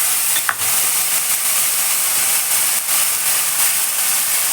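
Onion-garlic paste and tomato paste fry in a hot pan with dried chilli, giving a steady, close sizzle and hiss that runs unbroken throughout, with a brief stir or clatter near the start.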